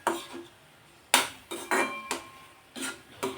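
A spoon stirs mango semolina sheera in a metal pan, giving a handful of close, separate clinks and scrapes with pauses between them and no talking.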